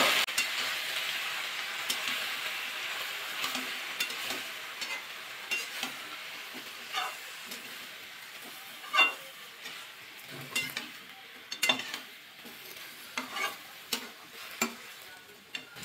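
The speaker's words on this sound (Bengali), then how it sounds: "পুঁইশাকের মধ্যে লবণ অ্যাড করবো, লবণ পরিমাণ দিয়ে, হলুদ, একটু নাড়াচাড়া করে নেবো।" Malabar spinach fries with salt and turmeric in a pan, a steady soft sizzle running under irregular scrapes and clicks of a spoon stirring the greens, close and moderately quiet.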